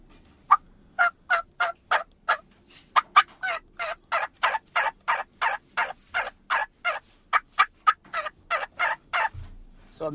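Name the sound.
hen turkey call imitated on a turkey call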